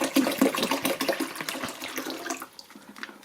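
Water pours from plastic bottles into the reservoir of an Igloo portable ice maker, a steady splashing gush close by that slowly tapers off toward the end.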